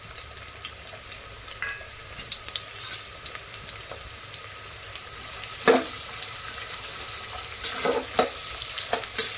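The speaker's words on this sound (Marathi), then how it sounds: "तेल गरम झालं आहे आता आपल्याला हा कांदा कांदा टाकायचा आहे चांगला परतून घ्यायचा" Chopped onion fries in hot oil with a faint, steady sizzle, and a few louder clattering stirs and bumps come later on, all without any talking.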